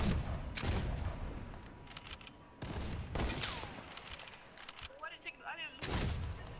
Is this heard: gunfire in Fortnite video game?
yes